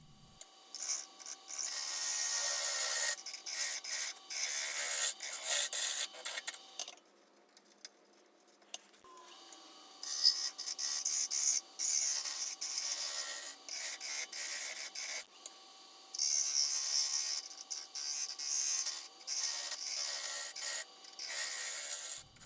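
Bowl gouge cutting the walls of a sassafras winged bowl spinning on a wood lathe, giving a steady scraping rasp in long bursts with short pauses between passes.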